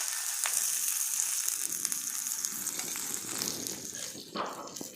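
Oil sizzles steadily in a pan over a wood-fired stove while brinjal fries, a continuous close hiss that holds level throughout, with a brief louder flare near the end.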